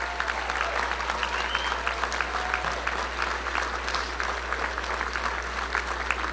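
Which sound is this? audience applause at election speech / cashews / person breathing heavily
audience applause at election speech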